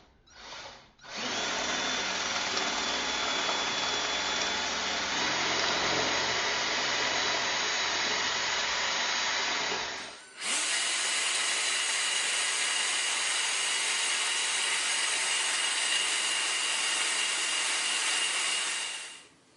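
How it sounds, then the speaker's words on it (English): A power drill bores holes for Tapcon masonry screws while fixing a metal ring over a broken toilet flange, running steadily and loudly in two long continuous bursts with a brief pause between them. "we're going to drill some holes"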